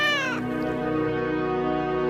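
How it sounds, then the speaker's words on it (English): A cat gives a single short meow at the very start, quickly giving way to a sustained, steady tonal drone that holds to the end. "the cat."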